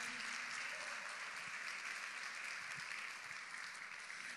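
A church congregation claps loudly together in praise during a Spanish-language service, a thick, sustained wash of applause with no pauses.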